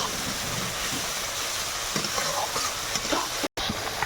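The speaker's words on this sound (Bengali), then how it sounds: "টক দইটা দিলাম এবারে মশলাটাকে একটু কষিয়ে" A spice paste with sour yogurt fries in a pan, giving a dense, continuous loud sizzle close by, with intermittent stirring scrapes over it and a brief dropout near the end.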